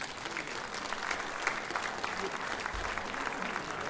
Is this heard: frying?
no